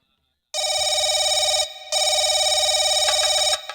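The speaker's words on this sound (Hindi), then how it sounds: "सर फोन आ रहा है।" A telephone rings loudly and close with a bright electronic warble, two long bursts separated by a short pause, after a moment of silence.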